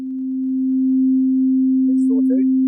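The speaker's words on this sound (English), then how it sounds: "here's a sine wave" A steady, pure sine wave tone synthesized in ScalaJs hums at a single constant pitch throughout, with someone speaking briefly under it near the end.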